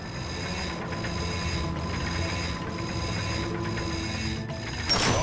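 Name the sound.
bolt crank turning in Ratchet & Clank video game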